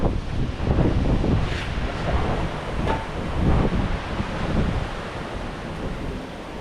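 Continuous roar of wind and breaking surf on a Mumbai seashore, with wind buffeting the microphone in gusts and no voices.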